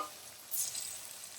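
Mutton liver fries in a kadai with a soft, steady sizzle and a brief brighter hiss partway through, quiet and close.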